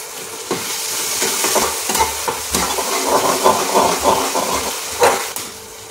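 Urad dal and onion fry and hiss in a hot pan for upma while a spoon stirs them, with scraping clicks over a steady close sizzle.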